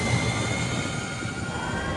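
An electric Harley-Davidson motorcycle motor gives a steady, dense whine with sustained tonal lines over a broad rushing roar, loud and close, unchanging for the whole stretch with no voices.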